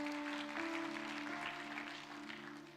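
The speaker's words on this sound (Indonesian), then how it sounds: "Tepuk tangan bagi Yesus" A church congregation applauds in a dense, steady wash of clapping that fades slightly toward the end, heard from a moderate distance alongside a sustained tonal hum.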